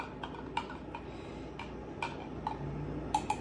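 A utensil clinks and ticks against a jar while a topping for sous vide mushroom soup is stirred, light sharp taps in an irregular rhythm over a steady low kitchen hum.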